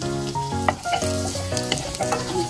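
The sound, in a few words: garlic frying until golden brown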